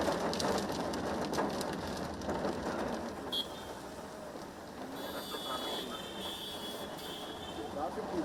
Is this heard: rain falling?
yes